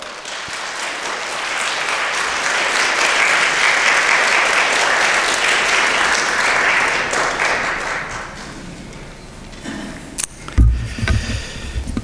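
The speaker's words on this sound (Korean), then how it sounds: "박수로 목사님 환영해 주시기 바랍니다" A church congregation applauds warmly to welcome a guest pastor at an early-morning revival service, a broad steady clapping that swells, then fades after about eight seconds into scattered claps and a few thumps and rustles nearby.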